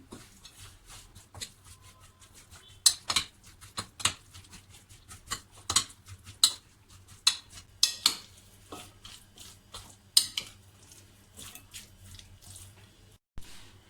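Chopped onions, garlic, salt and pepper are worked together in a bowl, giving a series of sharp clinks and wet clatters of utensil against dish over a low steady background, with no voices.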